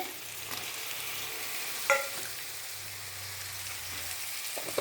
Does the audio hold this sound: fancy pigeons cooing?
no